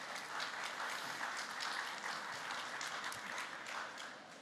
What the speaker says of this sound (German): einmal schon mal ein kleiner Applaus, dass die Kollegen sich hier zur Diskussion stellen